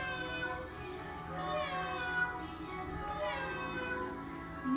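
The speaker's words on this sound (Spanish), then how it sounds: "¿Y el gatito?" Cat meowing in a children's animal-sounds lesson, a steady string of drawn-out, close mews with clear tonal harmonics, repeated without pause across the stretch.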